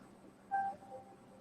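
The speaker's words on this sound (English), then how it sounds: "that's an alarm" Phone alarm going off at 7 o'clock: a short, faint electronic tone burst rising briefly above a quiet room, then fading.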